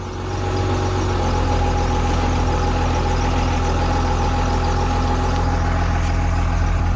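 Dodge Dakota fitted with a 12 valve Cummins diesel swap, with an S300 turbo and 48RE transmission, fires up and settles into a loud, steady low idle with a continuous deep rumble and no talking.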